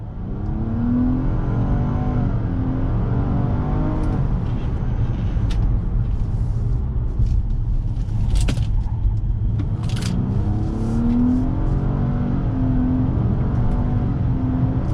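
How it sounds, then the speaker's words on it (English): A 2021 Nissan Maxima's engine revs hard under full throttle, its pitch climbing in repeated sweeps as its CVT runs up through simulated gears, loud and close. "But let's go ahead and go on throttle."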